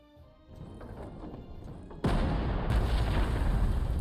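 Artillery fire in the strategy game Panzer Corps 2: a muffled low rumble builds, then a heavy booming blast lands and roars loudly through the rest of the moment, with no talking over it.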